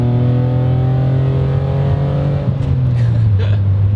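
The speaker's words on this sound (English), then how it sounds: "It's just fun to rev out." An SVT Ford Contour's engine revs loud and close, its steady droning note holding high and then easing down as the revs fall, with road and wind noise beneath.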